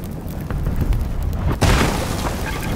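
Underwater volcano erupting in an Xbox video game, heard as a deep rumbling roar with a sudden loud boom partway through, followed by continued low churning rumble.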